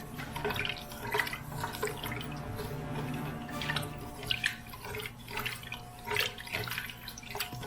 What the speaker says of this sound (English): And we gotta put some water in,